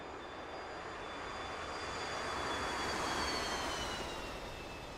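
A Blue Angels jet engine roars in a flight simulator game, a steady broadband rush with faint high whines that swells slightly in the middle and then eases.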